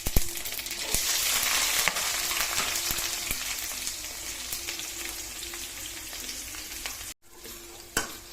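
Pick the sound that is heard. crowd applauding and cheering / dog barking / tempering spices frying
tempering spices frying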